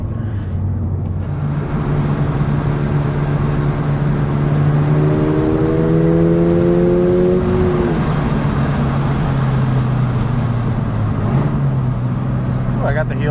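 A Toyota GR86 engine blips sharply during a heel-toe downshift on a city or canyon drive, heard as a loud, close rise and fall in pitch over a steady cabin drone while a person talks.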